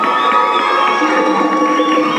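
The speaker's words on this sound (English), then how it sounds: "Another round of applause" An audience at a stage performance of Maasai chants and acoustic guitar applauds and cheers in a steady, dense roar of clapping and voices, loud and close throughout.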